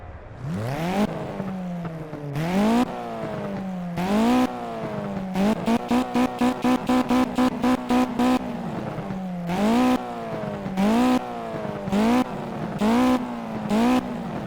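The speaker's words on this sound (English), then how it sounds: "let you hear the sound of this massive center exhaust pipe" A video game Mitsubishi Evo X FQ400 race car with a large center exhaust roars through repeated revs at Cadwell Park, rising in pitch with each shift, then a rapid burst of sharp staccato blips before more loud revving.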